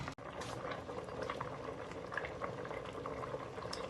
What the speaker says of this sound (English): our soup is really souping up. It's really bubbling up.